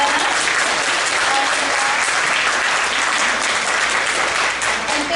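A theater audience at a Miss Pocomoke pageant breaks into sustained, dense applause, loud and even throughout without any voices rising above it.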